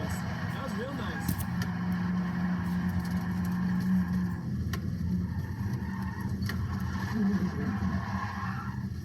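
A car circles a race track, its engine droning steadily and loudly throughout with a few brief tire and wind noises, and people talk over it at times.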